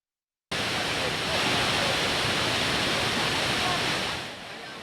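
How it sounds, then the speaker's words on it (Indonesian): A cold lava flood from Mount Semeru rushes down a river channel carrying volcanic debris, making a dense, continuous, loud roar like a waterfall that starts suddenly and stays steady before easing slightly at the end. "Banjir lahar dingin Gunung Semeru kembali menerjang 4 daerah aliran sungai"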